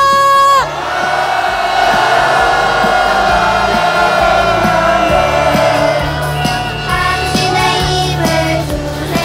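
A large street protest crowd against the ocean discharge of Fukushima contaminated water roars in a loud, sustained collective shout that swells and holds for several seconds, dense with overlapping voices up close.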